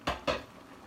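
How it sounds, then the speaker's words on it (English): Dry bowtie pasta tipped into a pot of boiling water for chicken Alfredo, heard as two quick, close clattering bursts a moment apart, then quiet. "my water for the pasta is boiling now, so I'm gonna go ahead and add that in."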